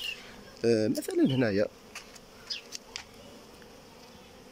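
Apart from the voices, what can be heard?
honey bees buzzing at beehive entrance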